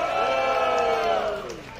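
Crowd noise rising from the audience at a hip hop battle in a Dia do Hip Hop event, a dense sustained roar of voices and shouts that swells and then tapers off near the end.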